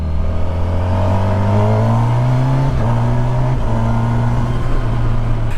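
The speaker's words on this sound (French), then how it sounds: "Je me lasse pas du quick shifter par contre" A Kawasaki motorcycle, either a Versys 1100 SE or a Ninja 500 SE, accelerates hard with steady engine drone and a few quick-shifter gear changes that briefly dip and step the pitch, loud and close throughout.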